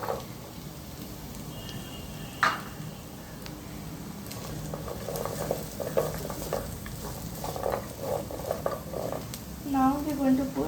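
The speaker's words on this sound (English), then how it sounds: "Now we're going to put the chopped vegetable into the pan with salt to taste. First we're going to put carrots." Chopped carrots and vegetables with salt hiss and sizzle steadily in a pan for a Kerala vegetable stew, with occasional stirring scrapes and a bit of speech mixed in.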